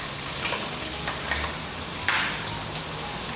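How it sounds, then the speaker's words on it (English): Butter and shallots sizzle in a hot wok, a continuous close crackle and hiss with a few sharper spits and pops and no talking. "we're going to add that to the hot wok, and then we're going to add in our shallots"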